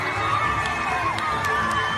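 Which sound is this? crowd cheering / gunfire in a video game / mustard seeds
crowd cheering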